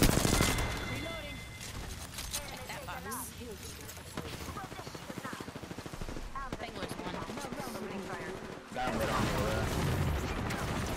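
Gunfire in the video game Apex Legends comes as rapid automatic bursts and scattered single shots over busy in-game ambience, loud and dense throughout, with voices talking over it.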